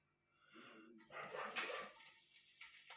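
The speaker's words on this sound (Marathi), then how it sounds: "बाहेर साप निघलाय म्हणून कुत्र भोकत आहे" A dog barks in a quick burst somewhere nearby, a little muffled, at a snake outside, and then goes quiet.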